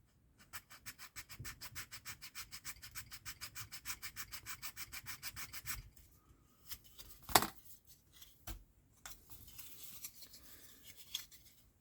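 A hand file rasping across a small part of an Audi quattro model seat frame in quick, even back-and-forth strokes for about six seconds, then scattered clicks and light handling noises, close and quiet.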